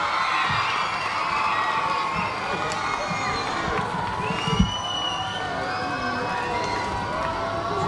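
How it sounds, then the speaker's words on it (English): An audience applauds and cheers at a Children's Day school celebration, with a dense crowd wash, children's shouts and whoops layered over it, and one brief louder thump partway through. "Keep applauding."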